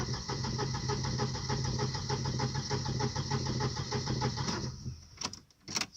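A rusty Volvo 940 Turbo is cranked from cold, its starter churning in a fast, even rhythm for about four and a half seconds before cutting off, followed by a few sharp clicks.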